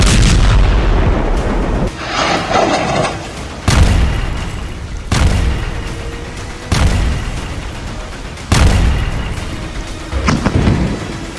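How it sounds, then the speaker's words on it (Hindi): A series of heavy, booming blasts of bombs from Israeli air strikes hitting buildings, roughly every one to two seconds, each a loud broadband burst with a rumbling tail; no voices. "इजरायल के तूफानी हवाई हमलों में बमों के धमाके ऐसे इमारतों को उड़ा रहे हैं"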